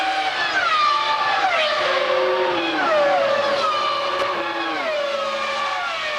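Formula 1 cars of the 2000 season at Spa, McLaren Mercedes among them, sweep past at a rolling start, engines screaming in overlapping high-pitched whines that rise and fall with loud continuous Doppler shifts as the pack passes close.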